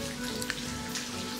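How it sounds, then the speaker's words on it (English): Steady, soft rain patters down at a family getaway in Kruger National Park, a faint even hiss with no talking. "Yeah, it's raining."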